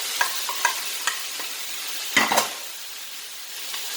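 Diced onion, sliced carrot, sliced celery and green capsicum sizzle steadily in a hot pan, with a few quick stirring clinks and scrapes near the start and middle, up close and with no talking.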